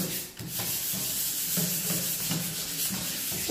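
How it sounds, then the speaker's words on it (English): Steady back-and-forth scuff sanding of varnished wood on an old church pulpit, a close, gritty scratching in a regular rhythm with no voices. "Just doing a light sand,"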